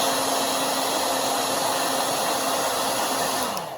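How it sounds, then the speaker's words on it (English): A hair dryer blows steadily on high, a loud continuous whirring roar with a constant motor hum that dips slightly just before the end. "Don't want to waste your time listening to my hairdryer run."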